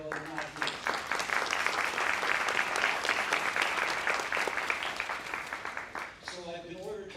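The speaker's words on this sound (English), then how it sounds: "let's applaud their parents, even though they're not here" Audience applause for graduates' parents at an awards reception, steady dense clapping filling most of the stretch and then fading out as a voice resumes near the end.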